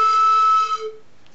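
A single sustained tone from a homemade instrument made of 1 cm diameter tubes, clear and bright with rich overtones, holding steadily before fading out after about a second.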